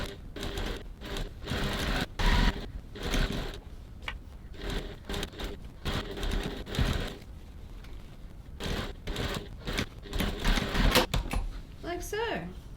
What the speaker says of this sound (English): we're stitching with the gusset side uppermost, starting off where we left off earlier